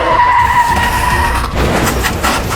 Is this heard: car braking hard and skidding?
yes